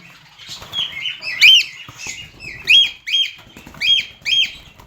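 A caged bird is lifted out and flaps its wings weakly, giving several short bursts of fluttering close by, mixed with thin chirps and no talk.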